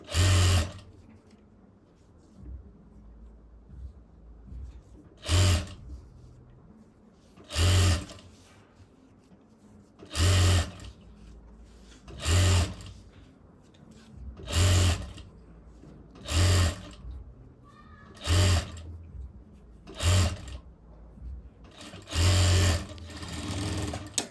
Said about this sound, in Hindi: सिलाई लगाएंगे बिल्कुल किनारे पर, इस वाले किनारे पे